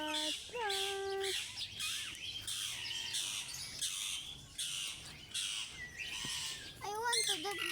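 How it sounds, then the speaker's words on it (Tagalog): Parrots in an aviary give repeated loud squawks and sliding, whistled chirps, several calls overlapping, with faint background voices. "Parrot."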